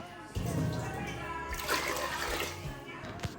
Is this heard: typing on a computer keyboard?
no